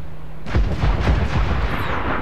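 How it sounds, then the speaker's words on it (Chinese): Mortar and artillery shots boom at a naval fort in Assassin's Creed IV Black Flag, heavy, loud and repeated blasts rolling into one another as a sustained barrage. "用迫击炮跟他对轰好"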